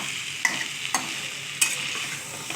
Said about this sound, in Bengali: সবজিটা খুব ভালো করে নাড়তে হবে।